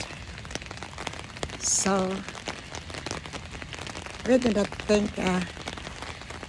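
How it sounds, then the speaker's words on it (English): Steady rain falling outdoors, a continuous broadband patter heard throughout, with someone speaking briefly over it at moments. "Enjoy the rain."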